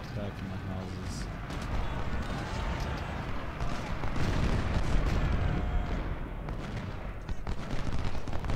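Infantry gunfire in the Civil War battle game Ultimate General: Civil War, rolling musket volleys and crackling shots around houses, steady and dense with a heavier swell midway, under someone talking.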